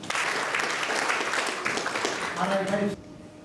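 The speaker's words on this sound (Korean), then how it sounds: "박수 한번 부탁드리겠습니다" Steady applause from a crowd at a Rotary club president's inauguration ceremony, dense and even, fading out abruptly near the end with a brief tonal hum underneath.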